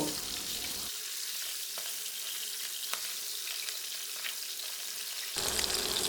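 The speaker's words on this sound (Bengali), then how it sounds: "এবার এ পাশও ভালোভাবে ভেজে নিব" Fish fries in a pan with a loud, bright, continuous sizzle. A quieter stretch of steady frying sits in the middle, and the hiss swells again at the start and end.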